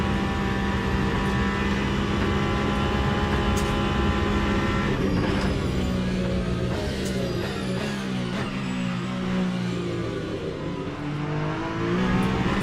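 Hypercar racing engines in the video game Le Mans Ultimate roar continuously, with layered revving and shifting pitch as several cars accelerate and change gears close together, loud and without speech.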